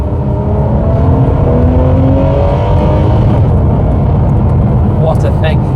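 A Ferrari 599 GTO in wet mode roars continuously with its engine revving hard and a rising, steady drone, loud and close, with talk over it.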